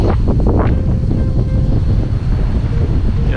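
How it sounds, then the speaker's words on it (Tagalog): Steady, roaring wind buffets the microphone outdoors by the sea in Arteche, Eastern Samar, Philippines, with a low rumble like surf beneath it and no voices. "Ganda ng hangin naman dito, presko."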